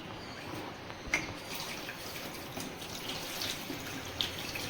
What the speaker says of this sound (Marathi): आता ते चांगल्या प्रकारे धुवून घेऊया